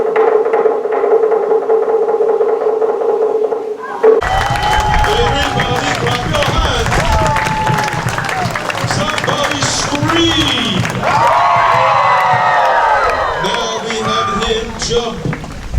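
A crowd at a Polynesian cultural show in Hawaii claps and cheers after a quiet start, a dense burst of applause and whoops mixed with excited voices and chatter.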